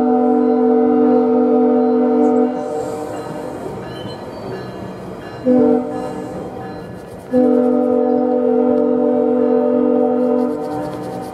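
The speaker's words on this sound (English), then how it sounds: "Bit of a deep sound of the horn today." GO Transit commuter train locomotive 3725 sounds a deep, loud multi-note horn in long sustained blasts, with a short blast in the middle, while the train rumbles past nearby; no talking.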